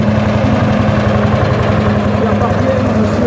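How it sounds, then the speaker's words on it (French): A French Percheron single-cylinder semi-diesel tractor engine runs loud and close at a parade of old tractors, a steady throbbing, low rumble with a rapid regular pulse continuing throughout. "Percheron, c'est un tracteur français, monocylindre, diesel,"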